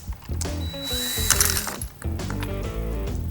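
A ratchet driving a Torx bit clicks through a rapid, close burst of pawl ratcheting while backing out the handlebar control screws on a 2019 Harley-Davidson Road King, with mechanical clatter between runs.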